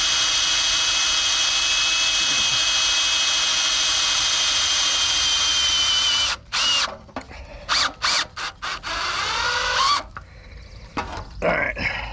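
A power drill whines steadily at full speed for several seconds, then fires in short bursts as self-tapping screws are driven, stopping and starting with a ratchety rattle.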